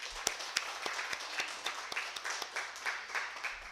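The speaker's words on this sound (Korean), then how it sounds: "우리 조성항 장로님 또 강건할 수 있도록 한번 격려의 박수 한번 주시기 바랍니다" A church congregation claps together in encouragement for an elder after a Sunday service, a dense, steady round of applause with sharp individual claps, heard at moderate distance with no talking.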